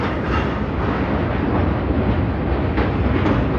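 An Amrit Bharat express train from Delhi to Lucknow crosses the new Yamuna bridge. From on board comes a loud, steady rumble with rhythmic clatter from the wheels and rails, and nobody speaks.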